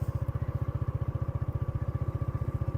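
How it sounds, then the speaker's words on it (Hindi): A motorcycle engine chugs in a steady, even rhythm of rapid low thumps, close and loud throughout, while riding on a paved road during rain and flooding. "अब आप थोड़ी सी तेज़ करें ना मोटरसाइकिल।"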